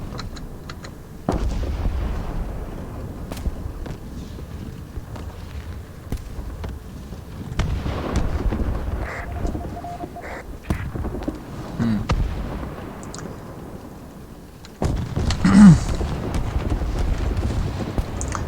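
Tank cannon shots and explosions from War Thunder battle with German Panzer IV tanks, heavy booming blasts scattered through the stretch over rumbling background noise, with brief wind-like rushes.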